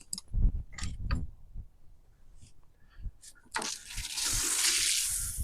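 Water rushes from a garden hose fed by an outdoor hydrant, a steady broadband hiss that starts partway through and keeps going, loud and close, after a few scattered knocks and clicks.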